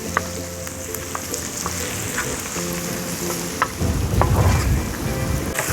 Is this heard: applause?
no